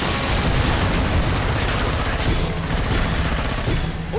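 Dense gunfire in Killing Floor 2, a rapid barrage of shots and booms blending into one continuous loud roar without a clear break.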